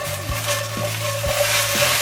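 Kielbasa, potatoes and veggies sizzling in a pan while a spatula stirs them, with regular scraping strokes about every half second over a steady close fry.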